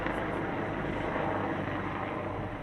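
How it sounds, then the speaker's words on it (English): A police plane flies overhead near a workplace, a continuous distant engine drone heard from outdoors, steady and moderately faint, with no voices. "Got the police plane flying over the area near my workplace here."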